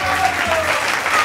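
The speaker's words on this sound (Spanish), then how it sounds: "Pues un fuerte aplauso para ella," Studio audience on a Spanish TV variety show applauds loudly in a brief burst, with faint tonal sound and possible voices underneath.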